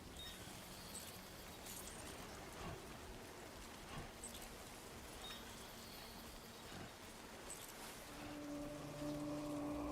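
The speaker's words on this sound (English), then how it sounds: "It's still raining," Rain falls steadily in the video game Death Stranding, a faint continuous hiss of drops with occasional soft clinks, low in level and without any voices.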